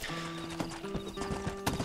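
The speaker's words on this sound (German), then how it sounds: "Entschuldigung, Pferd." Horse hooves clip-clop in the video game Red Dead Redemption, a steady run of close hoofbeats over continuous in-game ambience, with a brief whinny near the start.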